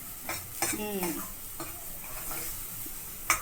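Masala for mutton curry sizzles and roasts in hot oil while being stirred, with brief scraping strokes and soft utensil taps, close and fairly quiet with no talking.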